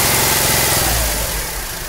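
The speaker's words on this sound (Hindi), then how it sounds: "तो देख सकते हैं हमारा ऑटोमेटिक फैन चालू हो चुका है।" A Skoda Fabia running with its automatic radiator cooling fan switched on, a steady close engine-and-fan whir that fades slightly toward the end.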